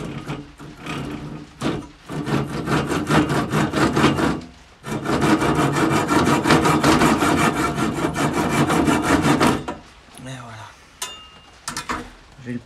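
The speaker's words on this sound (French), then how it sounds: "je vais la détacher à la scie" A saw cuts an oak spinning top free from its stem in steady, rhythmic rasping strokes that run for about nine seconds, then give way to quieter handling and scraping noises.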